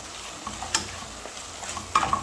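Paprika being stirred into food frying in a pan: a steady close sizzle with a few light utensil taps and scrapes, no voices.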